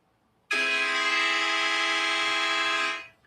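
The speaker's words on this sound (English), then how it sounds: "using augmented chords, which sound like this." One sustained, bright, dense augmented chord starts abruptly, holds steady for a few seconds, then fades out.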